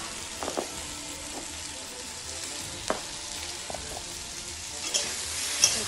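A fish curry with potato and kohlrabi sizzles steadily in a pan, a close crackling hiss broken by a few sharp clicks and pops.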